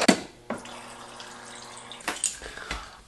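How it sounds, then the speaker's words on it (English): Water from a tap runs into a regular drinking cup, a steady close splashing stream lasting a couple of seconds, then clinks and small knocks as the cup is handled. "I'm gonna get water in a regular cup."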